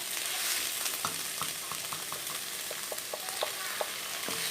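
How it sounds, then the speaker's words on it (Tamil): Drumstick leaves fry in a pan with a steady sizzle as ground coconut paste goes in, accompanied by a run of short clinks and scrapes from a utensil, close and moderately loud. "இப்போ நம்ம வந்து அரைச்சி வச்சுருக்கிற தேங்காய் வந்து இதில் ஊற்றிடலாம்"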